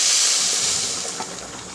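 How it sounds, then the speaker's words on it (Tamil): Water is poured into a hot pan while cooking rava bath, or suji upma, and gives a loud, hissing sizzle that slowly fades. "இப்போ அந்த தண்ணியை ஊற்றிடுறேன்"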